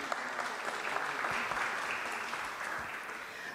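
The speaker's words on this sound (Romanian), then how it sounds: "Aplauze, vă rugăm." Applause for the county prefect at a church event in Satu Mare, a steady crowd clapping at a moderate distance that holds for a few seconds and begins to thin toward the end.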